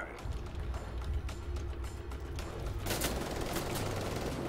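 Heavy gunfire from a big gun in the video game Wolfenstein The Old Blood, a dense run of rapid shots that grows brighter and louder partway through, with no talking.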